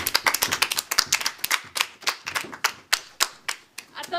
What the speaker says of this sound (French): je vous demande d'applaudir Mike, Dédé et Pamela Sue.